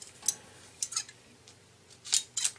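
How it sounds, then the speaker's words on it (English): Scissors snip several times through wrap trimmed near a tyre valve, quick crisp cuts in small clusters, close and fairly quiet with no talking. "snip it off"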